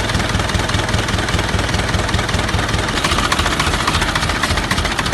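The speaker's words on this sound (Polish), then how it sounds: "W tej chwili silnik ma około 400 obrotów." Ostrówek K-162 tractor engine idling at about 400 rpm, with a steady, loud low rumble and dense mechanical clatter throughout, no voices.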